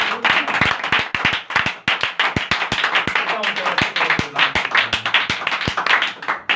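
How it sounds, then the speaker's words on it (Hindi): Loud, close clapping from a church congregation, many hands beating in a dense, slightly uneven rhythm, with sharp individual claps standing out and faint voices mixed in throughout. "एक बार जोरदार तालियां बजा सकते हैं"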